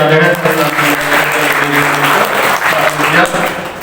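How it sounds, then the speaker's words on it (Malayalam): Audience at an alumni felicitation event at a college in Vadakara claps loudly and steadily for a former student, a dense burst of applause that carries on for several seconds with voices mixed in. "നിറഞ്ഞ കയ്യടി അദ്ദേഹത്തിന്"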